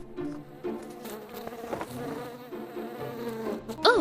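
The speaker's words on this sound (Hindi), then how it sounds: "ओह मक्खी, तुम वापस आ गई।" A housefly buzzes in a Spider-Man video game, with a continuous droning hum that rises and falls as it moves around. The buzzing ends with a sharper, wavering whine.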